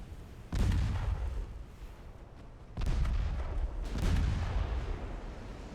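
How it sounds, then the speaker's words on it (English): Torpedo hits exploding against a warship in the naval game Ultimate Admiral Dreadnoughts: two or three heavy, booming blasts a couple of seconds apart, each with a deep rumbling tail, loud and close. "Four, 7 torpedo hits. And we get a flash fire."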